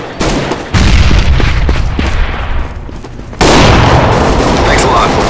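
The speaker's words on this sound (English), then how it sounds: "Throwing smoke! Throwing flashbang! Grenade out!" Smoke grenade, flashbang and frag grenade detonations in Counter-Strike: Global Offensive, loud broadband blasts with a sudden big burst near the middle, dense with game noise and gunfire.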